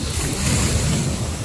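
Ocean waves on Hove beach roll in as a continuous, loud broadband wash of surf, mixed with buffeting wind on the microphone.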